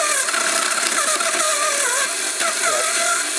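A shredder for 3D-printed parts runs with a slipping bolt, a loud continuous mechanical grinding and whirring with fluctuating pitch and scraping, up close and uninterrupted.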